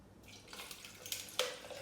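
Almond milk poured into a blender or cup, a short, faint liquid stream with small splashy gurgles building toward the end, alone without speech.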